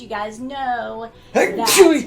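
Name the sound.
sneeze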